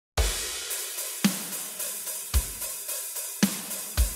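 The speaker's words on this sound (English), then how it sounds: "For drums, I'm just using Molinier drums," Metal drum hits from the Solemn Tones Molinier drums sample library, with punchy kick and snare strikes landing about once a second, each followed by a ringing cymbal wash, heard alone and close.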